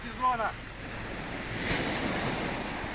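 Waves wash onto the shore of the Sea of Azov at the village of Yalta in February, a soft steady surf with wind buffeting the microphone and a brief voice near the start.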